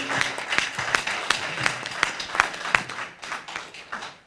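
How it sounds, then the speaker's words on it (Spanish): A church congregation claps together in a quick, fairly steady rhythm during a worship evening, heard at moderate distance with some room echo. "unas palmas al Señor y continuemos"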